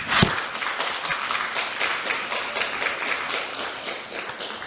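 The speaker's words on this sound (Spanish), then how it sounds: "Denle un aplauso a Dios." A church congregation claps for God, a brisk, fairly close run of individual hand claps that builds into a continuous patter lasting several seconds.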